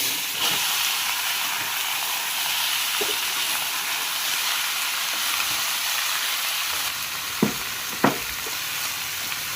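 Bottle gourd cooking in a hot pan, a steady broadband frying sizzle that fills the whole stretch, with a few sharp clinks or stirs near the end and no talk.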